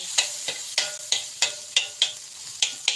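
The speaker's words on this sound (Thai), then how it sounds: "ใส่น้ำมันลงไปนะคะโอ้ใส่กระเทียมลงไป" Garlic fries in oil in a pan with a steady sizzle, broken by a regular rhythm of about ten sharp scraping stirs of a utensil, close and clear.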